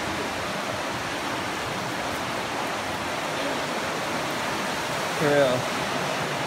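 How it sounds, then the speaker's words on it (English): Muddy river water rushes steadily beneath a bridge, a broad continuous wash close by, with a brief voice cutting in near the end. "like the river running through this"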